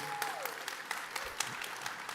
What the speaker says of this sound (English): We all just give them a round of applause for being with us this morning.